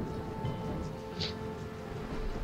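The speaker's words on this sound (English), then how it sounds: "Rain is getting worse." Steady rain hisses in the survival game Dyscourse, a dense continuous wash with soft low rumbling and occasional faint droplet ticks, with no voices over it.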